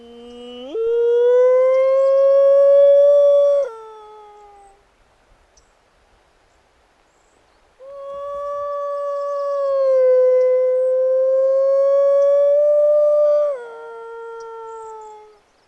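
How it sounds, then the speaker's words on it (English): Wolves in rainy Washington State give two long, loud, sustained howls with a short silent gap between them, each holding a steady pitch before dropping away at the end, with no talking. "The wolves are here, and there are a lot of them."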